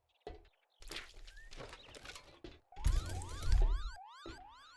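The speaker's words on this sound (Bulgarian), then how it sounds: "Алармата ли пущих?" Alarm siren in the survival game 7 Days to Die, a wailing tone sweeping up and down repeatedly, loud and close, rising over clanking mechanical noises and thuds.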